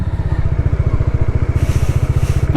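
A Bajaj Dominar motorcycle engine idles steadily after a 32,000 km service, with a close, even low thrum and a faint mechanical clatter throughout.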